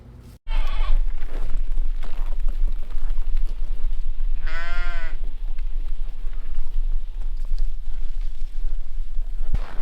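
A single clear sheep bleat rises midway through a steady rush of wind in a freezing outdoor livestock pen at -33°C.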